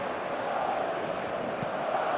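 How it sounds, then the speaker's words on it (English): A large football stadium crowd in eFootball 2025 roars as a steady, dense wall of cheering and chanting that holds even throughout, with no breaks. "Expectations rising, evidently the crowd hoping to be treated to a special contest."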